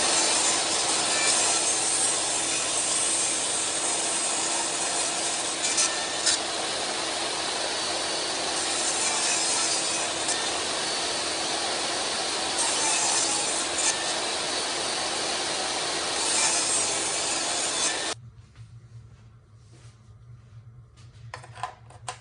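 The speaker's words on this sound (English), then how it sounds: "I'm going to use to hold this frame in place while I run it through the blade" Saw blade cutting a wooden picture frame at 45 degrees, a loud continuous close whine and rasp for about 18 seconds, then stopping abruptly to a faint low hum.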